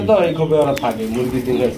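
Pigeons, including a sky-blue Golla, coo at a pigeon farm, close and fairly loud, with a person talking over the cooing throughout.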